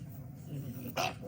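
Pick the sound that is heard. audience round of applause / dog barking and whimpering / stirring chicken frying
dog barking and whimpering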